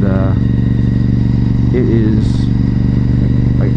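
A motorcycle engine runs steadily on rural Pennsylvania roads, a loud continuous drone under a voice throughout.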